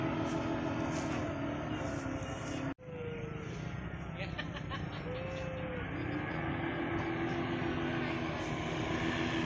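A paramotor engine drones steadily in flight during a pre-PON paragliding training session, with a continuous buzzing hum, a brief dropout partway through, and people talking over it.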